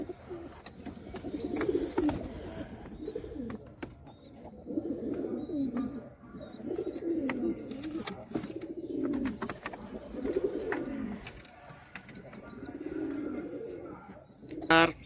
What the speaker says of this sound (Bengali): এই যে আমার পছন্দের কবুতরের জোড়া